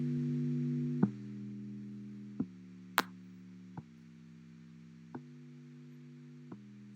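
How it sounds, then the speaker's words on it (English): Deep sub bass synth for a drum and bass track, a low, smooth sustained tone shifting pitch with the chords at intervals of about 1 to 1.5 seconds, with a soft click at each change, playing alone. "Deep sub bass. So this is just effectively following the chords with the bass."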